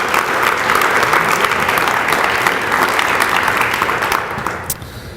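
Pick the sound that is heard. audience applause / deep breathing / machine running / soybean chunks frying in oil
audience applause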